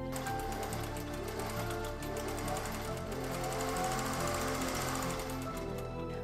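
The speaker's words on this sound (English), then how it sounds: "I sewed the ruffle and the skirt right sides together" Sewing machine stitching a ruffle onto a skirt for an Edwardian summer dress, with a steady, rapid mechanical clatter running continuously at close range.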